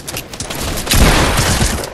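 Dense, continuous gunfire from a Fortnite match, loud and close, with a rapid volley swelling louder toward the second half and no talking over it.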